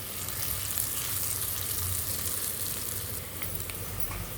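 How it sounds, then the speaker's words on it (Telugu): Tempering for gongura pickle sizzles in hot oil: cumin, mustard seeds, fenugreek, dried red chillies and chana dal frying with a steady close crackle and hiss, heard alone without talk. "ఇదిగండి పోపు వేగిపోయింది."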